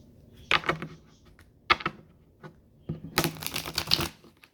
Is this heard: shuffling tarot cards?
yes